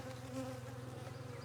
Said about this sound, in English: Lots and lots of drones.